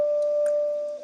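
A single Foley sample played as middle C on a sampler keyboard in Phase Plant sounds as a steady, pure-sounding tone, clear and close, lasting about a second.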